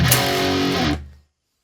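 Distorted electric guitar playing an iconic riff through a Digitech-style whammy pedal, a loud dense burst lasting about a second that stops abruptly and rings out briefly.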